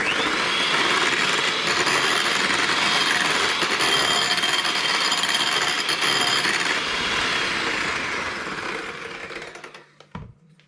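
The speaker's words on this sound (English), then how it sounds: "I'm just going to whisk this in" Vanilla whisked into a chocolate dessert mixture: a loud, steady, close whirring that runs for about nine seconds, then fades and cuts off with a final clatter.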